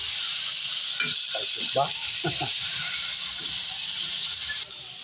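Garlic sizzles in a hot pan alongside tomato and onion as the base for a string bean adobo, giving a steady, close hiss that runs throughout while a person speaks briefly over it.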